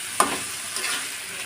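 Chickpeas stirred into spiced masala and frying in a pan, a sharp spatula tap and then continuous close sizzling with light stirring.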